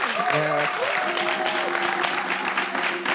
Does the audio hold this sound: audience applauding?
yes